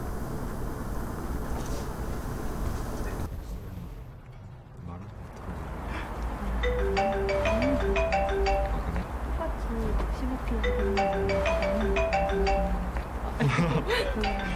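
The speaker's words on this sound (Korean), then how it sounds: "전화 좀 받으세요." A mobile phone ringtone plays repeatedly, a bright melodic chiming pattern that repeats in phrases over a background of talk and ambient noise.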